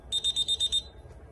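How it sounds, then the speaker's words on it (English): An alarm system's door chime sounds when a door or window zone is opened: a quick run of short, high, evenly spaced electronic beeps, close and clear, with no talking. "the system will chime letting you know that that zone has been opened"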